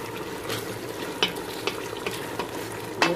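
Meat with onions, oil and spices simmering in a pan, a soft continuous sizzle with light bubbling and a few faint stirring taps over it.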